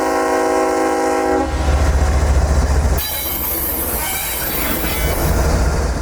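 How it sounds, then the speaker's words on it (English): Amtrak 91 Silver Star passenger train passes close by, its horn chord blaring at first, then loud wheel squeal, rumbling and clattering rail noise as the cars roll past. "it was now time for that Amtrak 91"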